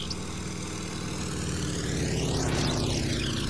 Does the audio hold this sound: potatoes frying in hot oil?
no